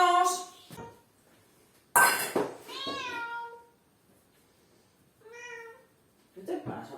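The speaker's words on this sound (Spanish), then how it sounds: "la gata la tengo aquí maullando" A female cat meows several times at close range, long wavering cries separated by pauses, in a kitchen where vegan lasagna with spinach and mushrooms is being made, with a few faint clinks of dishes between cries.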